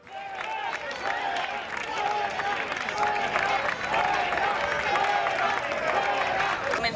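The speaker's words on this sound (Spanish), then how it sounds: "Vamos a escuchar cómo han sido estos abucheos a Manuela Carmena" A crowd jeers and boos Madrid mayor Manuela Carmena, with overlapping shouting voices and scattered clapping forming a loud, continuous din that holds steady throughout.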